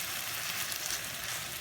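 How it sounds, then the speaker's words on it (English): Seitan sears in a hot pan on high heat, giving a steady, dense sizzle and crackle that holds evenly and fairly close throughout, with no voices over it. "we're just sort of searing the seitan to kind of give it that on the grill burnt"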